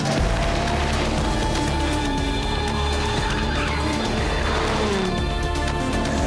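A high-revving Aston Martin V12 DBS engine roars loudly and steadily as the car accelerates hard on a race circuit, with the exhaust note sustained throughout and no pause.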